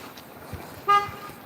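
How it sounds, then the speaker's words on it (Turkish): A single short car horn honk sounds suddenly, fairly near, over quiet street background noise in Istanbul. "Bak korna çaldı."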